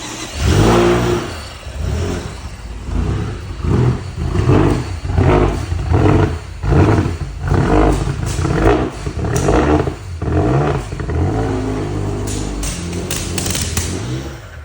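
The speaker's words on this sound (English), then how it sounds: "It's backfiring." A BMW M5 drift build with bad gas, running for the first time, revs repeatedly in rough rising and falling surges, close and loud, with crackling pops near the end.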